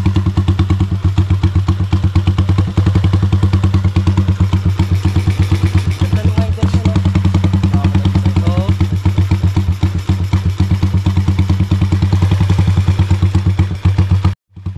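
A motorcycle engine fitted with a Keihin Sudco flat slide carburetor runs steadily and loud at close range, a continuous rumbling idle with rapid clattering firing pulses that holds without stalling before cutting off abruptly at the end.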